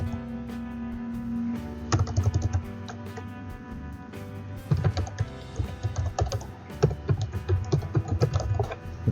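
Rapid keystrokes on a computer keyboard come in bursts, with short pauses between runs of typing while an email address and sign-in details are entered during an Office Pro Plus install, close and clear with no talk.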